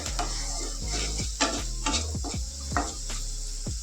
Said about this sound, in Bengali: এইবার আমি রসুন পেঁয়াজটাকে একসাথে ভেজে নেব